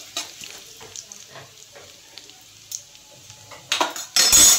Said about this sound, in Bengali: দেখুন জিরে ফাটতে শুরু করেছে